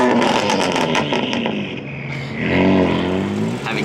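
A BMW drag car with stock parts runs its engine at a steady, loud idle-to-rev drone, swelling slightly near the end, with no talk over it.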